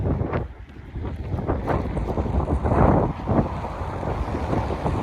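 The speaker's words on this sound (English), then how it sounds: "And here comes the wind." Strong outdoor wind buffets the microphone while walking along Sheppard Avenue East in Scarborough, Toronto, producing a loud, rumbling, gusty roar that surges and fades without letting up.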